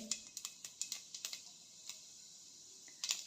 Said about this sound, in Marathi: मोहरी तडतडा लागली आहे त्यानंतर अर्धा चमचा जिरे घालते